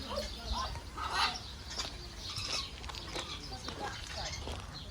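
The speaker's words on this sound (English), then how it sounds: "We've come to a parrot place." Parrots at a parrot park give scattered chirps and squawks, some near and some farther off, over a busy background with faint voices.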